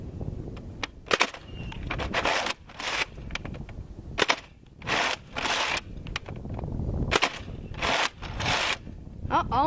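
Nerf Mega Centurion blaster fired repeatedly in a shooting test, a series of sharp loud bursts and clattering snaps spaced unevenly over several seconds, close by, with room noise between shots.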